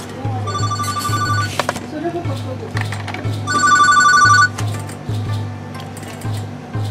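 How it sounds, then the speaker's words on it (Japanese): A telephone rings in a kitchen where miso soup with tofu, shimeji, green onion and fried tofu is being made, repeated electronic trills in two bursts over a steady low hum, loud and close. "電話だ。"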